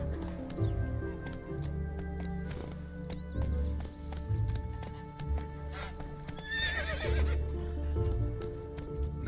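Roach, Geralt's horse in The Witcher 3 video game, gallops with rapid rhythmic hoofbeats under a game soundtrack and whinnies loudly once near the end.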